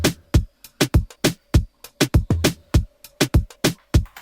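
Combined drum samples for a riddim beat play alone: punchy kicks and bright snare and hat hits in a steady, fast pattern of about twenty-five sharp, loud strikes.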